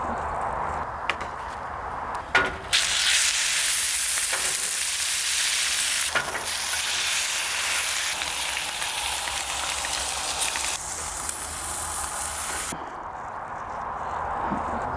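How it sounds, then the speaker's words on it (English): Salt-and-pepper-seasoned beef searing on a pellet grill gives a steady, loud sizzle for about twelve seconds, with a few light knocks near the start before it cuts off. "we're going to start by seasoning this beef and throwing it on and getting a good sear on it"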